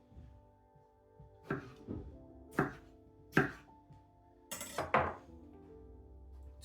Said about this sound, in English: Tomatoes chopped.